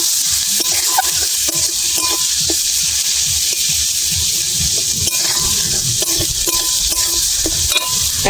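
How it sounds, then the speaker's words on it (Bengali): Spices with turmeric fry in a pan, giving a loud, steady sizzle throughout while a utensil stirs with repeated soft scraping strokes close by. "হলুদ দিয়ে দেবো, ভালো করে নেড়ে চেড়ে দেবো।"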